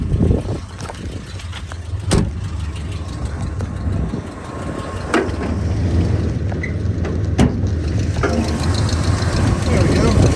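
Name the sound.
1990 Jeep Grand Wagoneer engine idling with belt chirping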